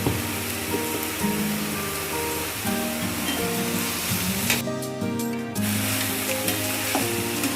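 Water lily stems coated in turmeric sizzle loudly in a hot pan while being stirred, with scraping strokes and a burst of brighter crackling midway through.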